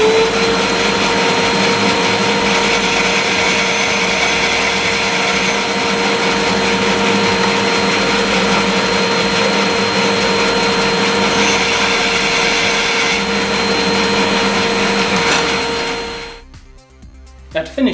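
A heavy-duty SIP wood bandsaw runs loud and steady while cutting tenon cheeks in wood guided by a mitre slide, a continuous mechanical whir with a bright blade hum, cutting off abruptly near the end.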